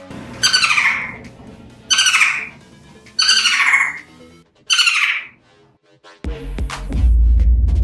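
A plush-crested jay gives four loud, harsh squawking calls spaced about a second apart, close and clear, followed by a burst of rumbling noise at the end.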